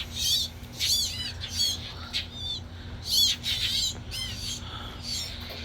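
Angry mockingbirds squawking near at hand in harsh, scratchy calls that come in uneven bursts over a low background hum, with no talk.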